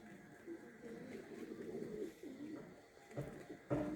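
Çittepe pigeons coo on a rooftop terrace, soft repeated low murmuring calls, fairly close, with a few brief louder sounds near the end and no talk.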